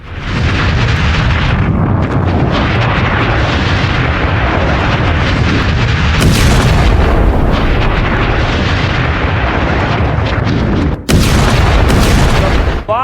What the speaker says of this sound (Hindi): ये डबल लॉन्चर है हिजबुल्लाह के, डबल लॉन्चर से इजराइल पर दाग दिया है।